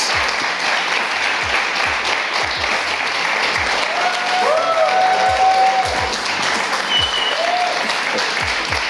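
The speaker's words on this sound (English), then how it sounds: "maybe it got drowned out because of the clapping" A live crowd at an Intel Extreme Masters StarCraft 2 esports quarterfinal at Gamescom claps loudly and steadily for the full stretch, a dense, even wash of hands with a faint tonal sound running underneath.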